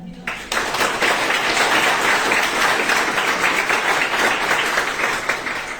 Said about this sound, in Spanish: pido de favor podamos dar un aplauso a los jóvenes y señoritas que hoy dieron su palabra aquí